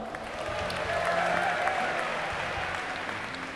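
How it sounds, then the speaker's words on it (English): An audience at a gaming event breaks into sustained applause and cheering, a dense wash of clapping that swells and then holds steady at a moderate distance. "give a cheer for Heart"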